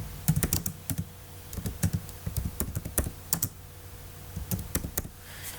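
Typing on a computer keyboard while entering text for a course assignment, with irregular bursts of close, crisp keystrokes and short pauses, no talking.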